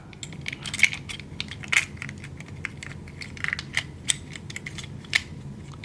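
Plastic parts of a Power Rangers Ninja Steel Mega Morph Cycle toy clicking and snapping into place, a series of small sharp clicks and rattles close by over faint background noise.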